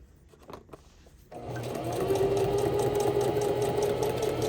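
A sewing machine stitching houses starts after a quiet moment with some faint handling noise, then runs steadily with a fast, even mechanical hum and rattle close by.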